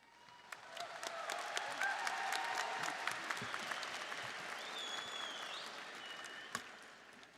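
A large crowd at a university commencement ceremony breaks into sustained applause and cheering that swells quickly and holds steady, with whistles and shouts scattered through the clapping, heard from a distance across a big space.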